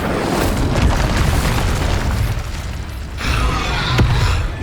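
Spell-casting effects in Hogwarts Legacy, including fire and disarming spells: bursts of booming, crackling magic with whooshing swells and pops, loud and layered in quick succession, with no speech.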